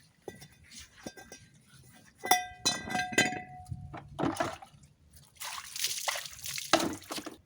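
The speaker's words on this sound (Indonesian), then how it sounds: "kita bilas dulu pakai air, kita cuci" Car brake parts rinsed with water during a DIY brake service, with scattered drips and metallic clinks followed by bursts of splashing and running water, close and intermittent, with no talk.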